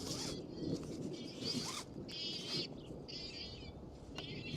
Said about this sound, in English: You guys hear that bird? It sounds like a freaking fire alarm.